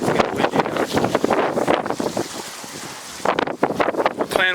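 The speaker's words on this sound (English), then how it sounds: "It's getting windy" Gusty wind buffeting the microphone outdoors on a walk, roaring in bursts that rise and ease, with brief voices and movement noises over it.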